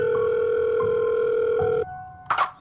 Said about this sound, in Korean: 설마 싶어서 바로 행정반으로 전화를 걸어 당직병에게 물어봤다.